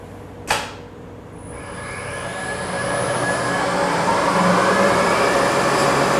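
The spindle of a Supermax YCM-40 CNC mill spins up to 4,200 RPM after a sharp click, its whine rising and then holding as a steady, loud tonal hum with a rushing noise beneath it.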